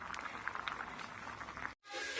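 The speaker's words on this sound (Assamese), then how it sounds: "মই বইল হ'ব দিছোঁ" Cauliflower simmers in a pot of water, giving a steady soft bubbling hiss that holds for most of the moment before a brief silent cut and a louder burst of bubbling noise.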